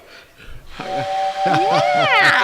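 A whistle sounds in a steady sustained tone with rising, warbling pitches layered over it, loud and close amid an indoor gathering with people talking around it.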